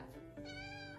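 A cat gives a single short meow, close and clear, rising in pitch toward the end.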